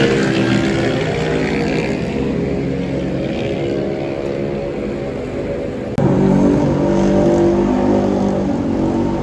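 A loud, raw engine roar drones continuously nearby on a street in Indonesia, growing harsher and louder toward the end, from a motorbike revving with its muffler removed.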